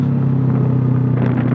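A motorcycle fitted with an Eternal aftermarket exhaust rumbles loudly and close by, its deep steady engine note building slightly toward the end, with no voices over it.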